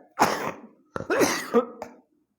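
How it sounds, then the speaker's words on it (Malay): A person coughs in two harsh bursts, the second longer and raspier, with a brief throat-clearing catch between them, close and fairly loud. "Masih ada batuk tuan."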